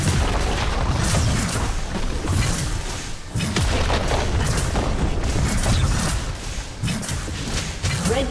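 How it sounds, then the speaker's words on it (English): A turret is destroyed in League of Legends during a top-lane match, bringing repeated heavy booms and crashes in loud, close bursts over dense game noise and no talk. "Red team's turret has been destroyed."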